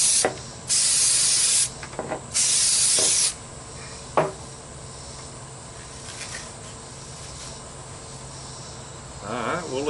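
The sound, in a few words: spraying an aerosol can onto a catfish jug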